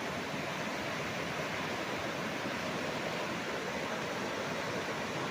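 A clear river in Majayjay, Laguna flows past a farm, its current a steady, even rush of water with no breaks and no voices over it.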